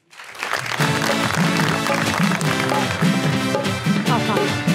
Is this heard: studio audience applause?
yes